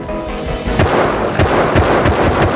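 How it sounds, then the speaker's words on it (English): Rapid gunfire in the survival video game Rust crackles as a dense, loud burst of overlapping shots with repeated sharp cracks over a constant roar of game noise. "Are you guys shooting? Yep, that's us."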